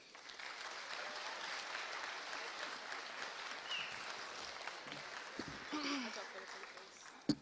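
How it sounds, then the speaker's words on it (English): Steady, dense applause from a school audience at a Veterans Day assembly for a JROTC program, filling the whole stretch at an even level with a sharp clap near the end. "Please welcome, with a round of applause, Cadet Lieutenant Colonel Courtney Hostetter"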